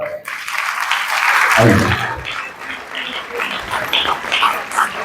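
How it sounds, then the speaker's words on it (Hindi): Audience applause for the director of a school children's drama about Raja Ram Mohan Roy in Bhopal swells into loud clapping after a brief spoken invitation, peaks, then continues in uneven bursts to the end. "जोरदार तालियों के साथ"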